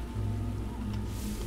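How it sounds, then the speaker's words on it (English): Steady rushing of a large amount of flowing water in the video game Lumini, a continuous broadband wash with a low hum beneath, no speech. "A great deal of water."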